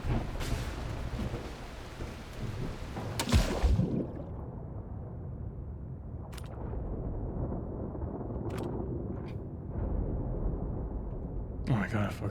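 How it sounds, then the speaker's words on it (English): Thunder rumbles and rain falls in the video game The Last Caretaker, a loud rolling crack near the start followed by steady rain hiss, with someone talking over it. "that's the thunder. The thunder and the lightning."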